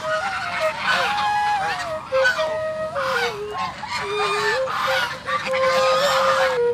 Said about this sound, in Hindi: देख सकते हैं मेरी प्यारी प्यारी डक क्या कर रही है।